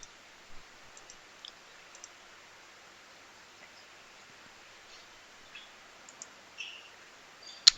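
A computer mouse gives a few scattered, faint clicks over a quiet background hiss while a software installer is run, with sparse isolated taps spread through the stretch.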